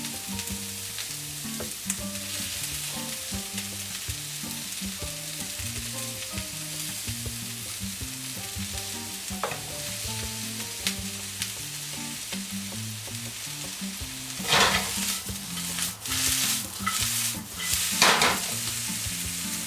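Brussels sprouts pan frying with garlic give a steady, close sizzle that runs the whole time, with louder bursts of stirring and clatter near the end. No one speaks, and background music plays underneath.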